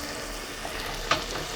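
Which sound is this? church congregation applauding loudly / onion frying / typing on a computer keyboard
onion frying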